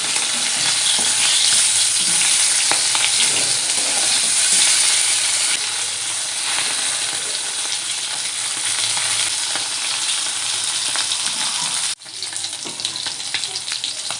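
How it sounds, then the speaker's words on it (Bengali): Tangra fish fry in hot oil in a pan for a potato and brinjal curry, with a loud, continuous crackling sizzle that runs close and unbroken, briefly dips, then resumes. "দেখুন মাছগুলো ভাজা হয়ে গেছে"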